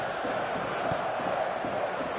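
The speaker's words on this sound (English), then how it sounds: "The stadium is full of noise and energy." Stadium crowd in the eFootball video game, a steady, dense roar of many voices that holds at an even level for the whole stretch, with a brief swell partway through.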